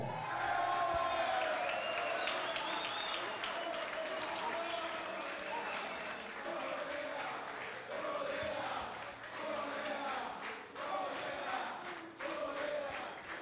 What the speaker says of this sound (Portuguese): O aplauso de vocês